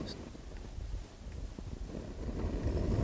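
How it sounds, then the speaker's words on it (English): Gusty outdoor wind buffets the microphone while an MSR camping stove is being lit, a steady low rumble that swells toward the end. "it's hard to do this in the wind"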